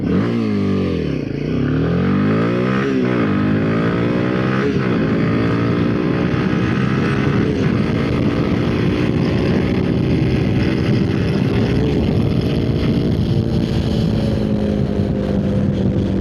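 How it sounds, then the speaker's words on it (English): A 2026 Royal Enfield Himalayan motorcycle accelerates hard close to the microphone, its engine note climbing steadily in pitch through the gears, loud and continuous with some wind rush. "when a bike of this size accelerates, I kid you not, it is actually scary"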